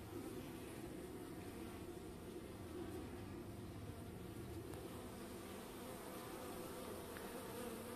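Continuous droning buzz of many honeybees at a hive entrance in December, a steady low hum with slight waver, close by and unbroken.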